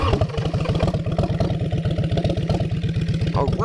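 An Orange County Chopper motorcycle engine chugs with fast, even, loud thumping firing pulses, close by, with faint talk in the background.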